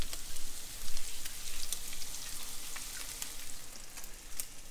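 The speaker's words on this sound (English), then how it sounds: "you want it sizzling when it first hits the pan there" Tripletail fish fillet frying in hot oil in a pan on a stove set to high, a steady close crackling sizzle with scattered sharp pops throughout.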